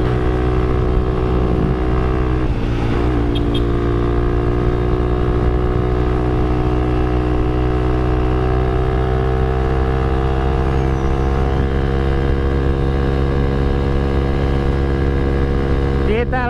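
A loud motorcycle engine drones steadily and strains under load climbing a steep uphill road, its pitch holding and rising slightly, close and continuous throughout.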